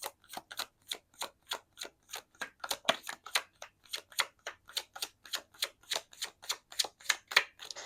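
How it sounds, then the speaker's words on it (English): Tarot cards being shuffled in a steady run of crisp, rapid riffling snaps, about twenty quick evenly spaced bursts, close and moderately loud with no talking. "these shuffles are taking a little longer than typically"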